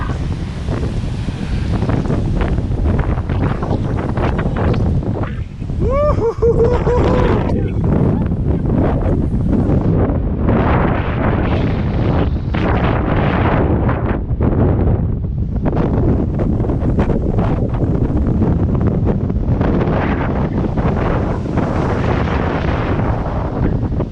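Strong sea wind roars and buffets the microphone without letup, with the rumble of surf underneath.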